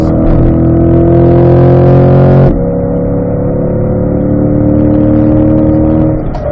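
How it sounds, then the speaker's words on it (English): A car engine held at full throttle gives a loud, sustained drone. Partway through, its pitch drops abruptly and then climbs steadily again, with no talking. "Lightly on the gas. Now full throttle."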